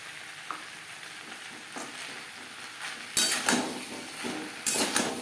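Grated coconut stirred into nearly cooked cauliflower stalks in a pan, with scraping strokes of a spatula and soft clinks against metal, growing louder toward the end; no talking.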